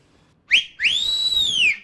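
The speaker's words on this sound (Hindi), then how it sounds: "बजा के दिखाएंगे आपने कैसी कैसी सीटियां भेजी हैं जांच के लिए?" Two shrill whistle blasts, a short chirp followed by a longer sustained tone that bends slightly, loud and close with no talking.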